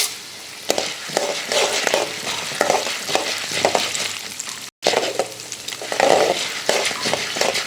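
Urad dal and chana dal frying in hot oil for a pirandai chutney, a steady crackling sizzle broken by repeated scraping and stirring clatter, close and moderately loud.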